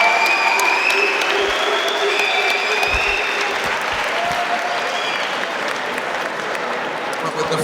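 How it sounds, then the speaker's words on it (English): A large crowd claps and cheers loudly and continuously at a live boxing event in a hangar venue in Wolverhampton, with dense, steady applause and occasional shouts throughout. "a massive round of applause to both men. Wolverhampton, put your hands together."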